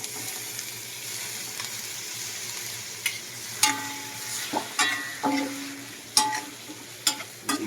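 Pork stirs and fries in a pan for adobo, with a low steady sizzle broken by several sharp scrapes and clinks of a utensil against the pan.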